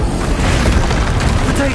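A Confringo spell blast in the Hogwarts Legacy video game: a loud, sustained booming roar that fills the whole moment, with a shouted voice over it.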